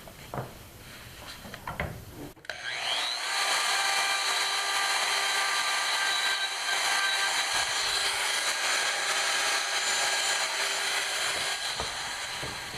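A router trims tenons on an Avodire wood bench, starting with a sharp spin-up and then holding a steady, loud, high whine for about ten seconds after a few quiet shop knocks.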